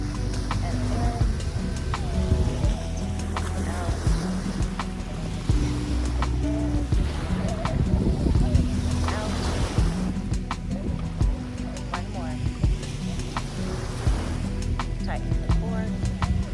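Ocean waves wash onto a beach during a slow outdoor yoga session, a continuous surf rush under soft tonal music and a speaking voice.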